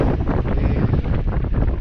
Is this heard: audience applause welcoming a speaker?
no